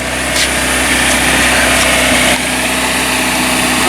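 A manual-transmission car engine runs loud and close as it is revved to about 2,000 rpm, a steady mid-pitched hum and vibration that holds evenly throughout.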